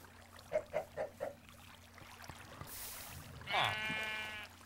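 Four quick, soft bleats from a sheep in Minecraft, followed by a burst of hiss and a louder drawn-out bleat, fairly faint overall.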